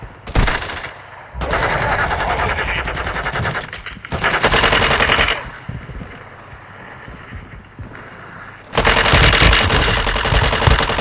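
Bursts of automatic gunfire from the mobile shooter game Warzone Mobile, loud and close, in three long rattling volleys separated by brief quieter gaps, with no talk over them.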